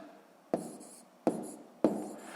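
Pen or pencil strokes on paper as numbers are written by hand during a multiplication exercise: three distinct sharp scratchy bursts, each fading out, close and quiet with no talk.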